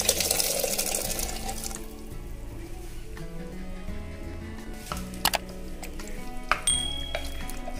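Chickpea cooking water is poured into a masala gravy in a pan with a gush of liquid, followed by light clinks of a utensil against the vessel.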